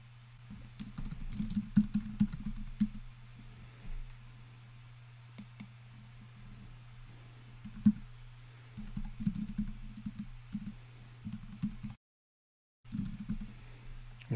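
Password typed on a computer keyboard during a Fedora Core setup, bursts of quiet close key clicks in irregular runs over a low steady machine hum, with a short silent break near the end.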